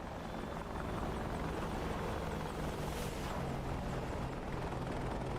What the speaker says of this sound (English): So basically, the helicopter flies on.